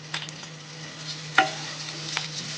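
Hash brown mix shallow-frying in hot oil over a medium flame, a soft continuous sizzle with occasional light scrapes and one sharp clink of a utensil against the pan, plus a low steady hum.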